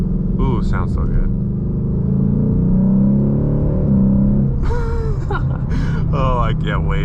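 A Ford Mustang GT with traction control switched off sends a steady, deep engine rumble under the whole stretch, while a person talks over it near the start and again toward the end.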